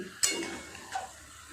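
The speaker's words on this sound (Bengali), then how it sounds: "খুব ভালো করে এখন কষাতে হবে মাংসটা" Chicken with spices is stir-fried in a pan, with two quick scrapes of a utensil against the metal over a faint sizzle, close and brief.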